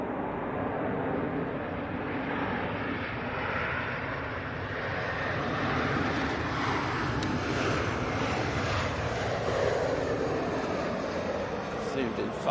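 Dornier aircraft climbing out just after rotation at Manchester Airport, a steady broad engine roar that fills the clip at moderate distance, with a voice talking over it.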